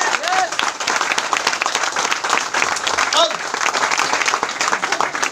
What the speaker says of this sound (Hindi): तालियां तो बनता है